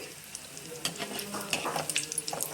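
Aloo bonda frying in oil over a medium flame, a steady soft sizzle with scattered small crackles and pops, close and fairly quiet, with no talking.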